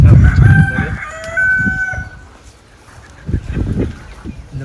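Black chickens crowing and clucking close by on a farm, a rooster's crow ringing out over low clucks, with a second burst of clucking near the end.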